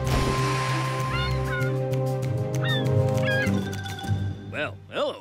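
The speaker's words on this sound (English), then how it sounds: "Follow that seagull!" Cartoon seagulls call in a few squawking cries over a busy animated soundtrack with music and bustle, the cries growing more prominent near the end.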